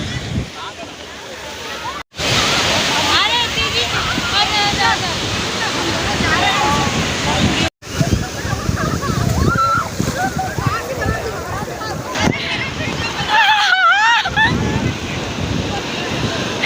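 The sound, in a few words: sea waves crashing on the beach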